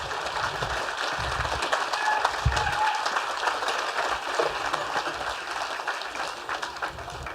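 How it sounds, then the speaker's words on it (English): Audience applause at a grand opening ceremony for a First Nations school system, a steady moderate wash of many hands clapping that holds evenly throughout with a few faint voices mixed in. "let's give them another round of applause, ladies and gentlemen"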